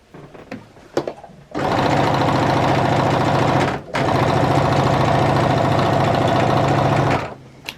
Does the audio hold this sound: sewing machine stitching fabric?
yes